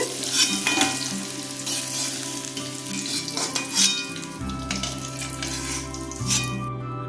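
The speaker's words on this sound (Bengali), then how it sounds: "আবার সর্ষের তেল দিয়ে দিচ্ছি শুকনো তেজপাতা দিয়ে দিলাম দারচিনি লবঙ্গ ছোট এলাচ" Dried bay leaf, cinnamon, cloves and green cardamom fry in mustard oil in a wok, a loud, continuous close sizzle with crackles and stirring scrapes, accompanied by a steady background hum.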